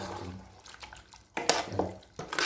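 Water splashed into tomato sauce for goat kaldereta, as short pours and splashes in a pot alongside some metallic clatter, close up with no talking.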